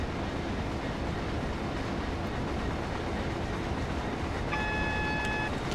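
A Class 66 EWS freight locomotive brakes in Train Sim World, giving a continuous loud rolling rumble of rail noise, with a thin high squeal of wheels joining near the end.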